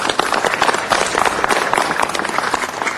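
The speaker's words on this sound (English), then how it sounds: "Let's give him a round of applause" Audience applause at a Los Angeles City Council meeting, a dense, steady wash of many hands clapping that holds at an even level for the full stretch, with no voices breaking through.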